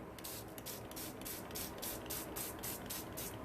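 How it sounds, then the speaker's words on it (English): Rapid, rhythmic hissing sprays from a trigger bottle of homemade shimmer mist, about a dozen quick bursts in steady succession, close and fairly quiet. "if I spray in one area, I can get it darker or lighter"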